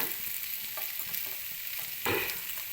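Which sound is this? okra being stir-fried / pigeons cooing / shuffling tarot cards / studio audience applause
okra being stir-fried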